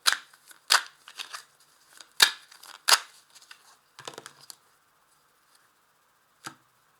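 Tarot de Marseille cards being handled and laid out on a table: a handful of crisp, close slaps and riffling snaps in short bursts, then quieter shuffling and a last lone flick, with no voices.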